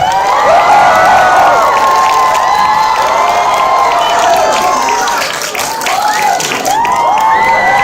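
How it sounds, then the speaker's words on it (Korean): An audience greets a film's director and lead actors with loud, sustained applause, cheering and high-pitched shouts and whoops rising over the clapping throughout. "자, 박수로 맞이해 주시기 바랍니다."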